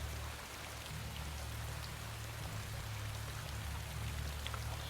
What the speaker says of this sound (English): I'm not sure how loud this rain is.